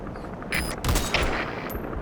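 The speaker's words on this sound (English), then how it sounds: "We're hearing gunfire." Gunfire in the video game Metal Gear Solid V: The Phantom Pain: a few sharp, distant-sounding bursts of shots crack out over a low ambient bed, with no speech.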